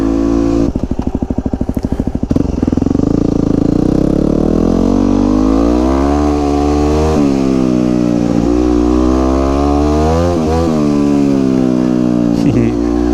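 A supermoto motorcycle engine revs hard during wheelie practice, first a rapid staccato burst of blips, then sustained high revs rising and falling through gear shifts, loud and close.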